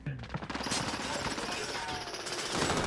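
Gunfire in the video game Call of Duty Modern Warfare: a loud, dense, continuous burst of rapid shots that rattles on without a break for the whole stretch.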